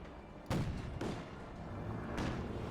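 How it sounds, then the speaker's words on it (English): Company of Heroes 2 battle hits from an anti-tank gun and a Flak Panzer: a sharp, booming shot followed by a second thud and a later third impact, each punchy and echoing over a low battlefield rumble. "Great hit from the anti-tank and the Flak Panzer"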